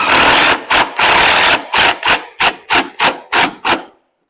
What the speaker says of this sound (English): Make sure you're not drilling in something on the other side.